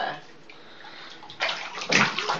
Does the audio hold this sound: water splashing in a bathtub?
yes